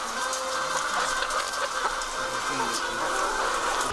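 Chickens on a poultry farm cluck softly amid a busy shed, scattered calls over a steady background hum, fairly faint and without speech.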